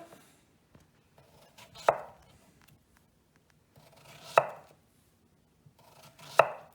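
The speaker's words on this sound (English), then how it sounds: "we're going to cut some lovely zucchini rings, 1/2 centimeter" A knife slices washed zucchini into half-centimeter rings on a board, three distinct, sharp chopping strokes spaced a couple of seconds apart, close and clear, with faint handling noise between cuts and no talk.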